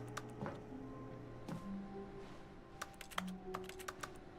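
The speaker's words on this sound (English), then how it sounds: "Why does this make keyboard noises? It's a filing drawer." Keyboard typing clatter played when a filing drawer is used in The Stanley Parable, a quiet run of irregular key clicks that thickens into a faster burst near the end, alone.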